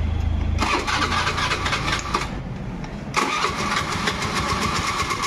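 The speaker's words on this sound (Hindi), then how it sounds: "आप इसको इस तरीके से डाल के एक बार गाड़ी स्टार्ट करेंगे" A Honda Activa 3G scooter engine cranks and catches about half a second in, then runs at a steady, close idle with a brief blip in the middle, loud and alone without voices.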